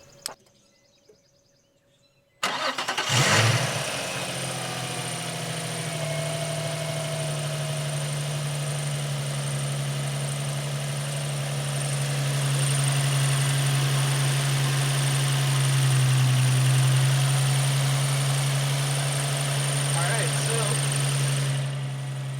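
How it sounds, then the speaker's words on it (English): After a brief quiet moment, a Nissan 350Z engine starts and settles into a steady idle, with a faint whirring tensioner bearing whine running over the low rumble. "That bearing sound that you hear is just one of the tensioners."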